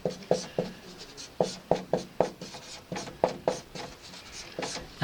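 Marker or chalk strokes on a board while writing out ions for an acid-base chemistry problem, a series of brisk scratchy taps and scrapes in irregular bursts, close and fairly quiet, with no talk.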